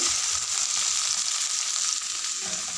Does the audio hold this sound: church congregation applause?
no